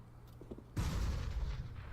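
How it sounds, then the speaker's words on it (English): A thrown grenade detonates in a video game: a low background hum gives way to a sudden loud blast whose rumbling roar fills the rest of the moment. "Grenade out. Grenade."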